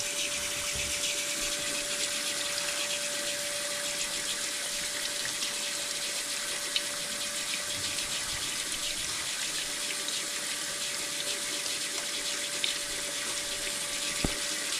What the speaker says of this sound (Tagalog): buhusan natin ng tubig para madaling sumingaw